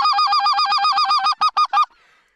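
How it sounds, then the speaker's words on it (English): Snow geese flying low over an Alberta hunting blind honk loudly and close in a rapid, regular run of calls, then three slower spaced honks before fading out. "Duck, two ducks, low. Snow goose."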